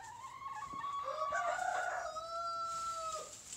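Chickens in a straw-filled coop, one drawn-out crowing call with shorter clucky notes around it, fairly faint against a quiet background with no speech.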